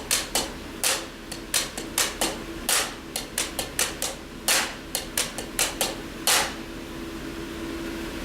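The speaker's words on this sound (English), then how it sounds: "you can start playing a ghost note after every downbeat and then before every downbeat" Snare drum playing ghost notes both before and after every downbeat, soft taps framing each accented stroke. The rhythm is quick and repeating, close and dry, with no voices, and it stops before the end, leaving quiet room tone.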